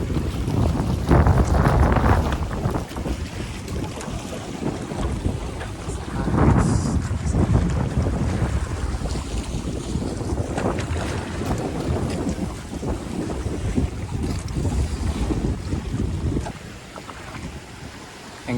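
A paraw outrigger sailboat sails off Sinagpa Beach in the Philippines, with loud gusting wind buffeting the microphone over the wash of waves and water against the hull, surging and easing throughout.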